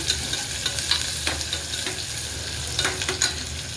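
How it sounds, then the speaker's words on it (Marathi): Onion and curry leaves fry in hot oil while being stirred, a loud close crackling sizzle with repeated spoon scrapes against the pan over a few seconds. "लगेच असा कांदा टाकून घेते तेलामध्ये. एकदा तेलात खालीवर करते."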